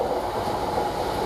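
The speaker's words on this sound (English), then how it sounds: "Now we're getting a Freightliner, which is a freight train from Freightliner North towards Daventry" A Freightliner freight train runs through a railway station, a loud, steady rumble of wagons rolling close by with a faint clickety-clack throughout and no talk.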